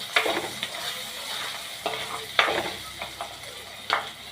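Potatoes sautéing in a pan for a nut chicken curry, with a spoon stirring through them: several close scraping strokes at irregular intervals over a continuous frying sizzle.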